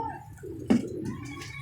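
Pigeons coo softly on a rooftop loft, a low throaty burble with one brief louder call rising near the middle, close and alone over a quiet background.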